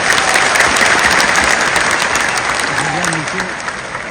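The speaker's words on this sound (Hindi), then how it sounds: "जोर से ताली बजाएं।" A crowd at a political rally claps loudly, a dense sustained wash of applause that slowly fades, with a voice speaking over the end.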